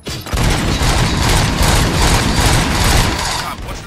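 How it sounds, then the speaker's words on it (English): Dense, loud gunfire in the Robocop: Rogue City video game, a continuous barrage of shots and booms rolling for several seconds with heavy low-end rumble, while a voice briefly speaks over it. "Gunshots? What's going on?"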